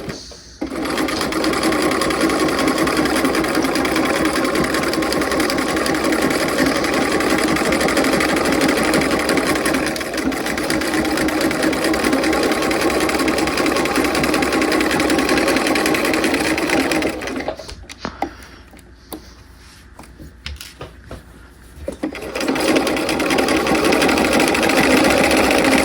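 A sewing machine stitches a seam on a half-scale jacket, running in a continuous, loud mechanical whir close up, briefly slowing and stuttering near the end before resuming.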